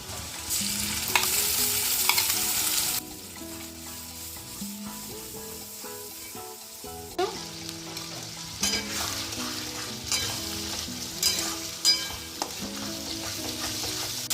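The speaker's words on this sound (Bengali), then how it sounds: "এখন আমি বাটা মশলাটা দিয়ে দেবো আদা রসুন বেটে রেখেছিলাম" Ginger-garlic-green chili paste sizzling loudly in a pan for chicken kosha while a utensil stirs and scrapes in irregular bursts, close by.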